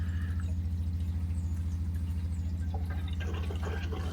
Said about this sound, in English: You can hear the tank filling up with water.